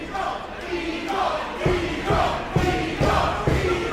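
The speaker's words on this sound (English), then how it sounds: "Crowd chanting for the Eagle." Wrestling fans at a CCW live event in Miami chant in rhythmic, repeated bursts, a loud crowd roar with regular swells filling the hall.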